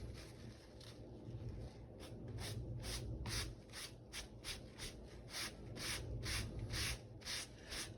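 Repeated rubbing strokes of an abrasive pulled along the grain of leather, distressing it for a worn, rustic look along beveled edges; steady rhythmic scraping passes, close and moderately loud, with no talk.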